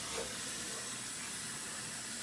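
Hot water runs steadily from a kitchen tap in a home kitchen while a Cajun crawfish étouffée is being cooked, a continuous close hiss and rush lasting about two seconds, with no voices.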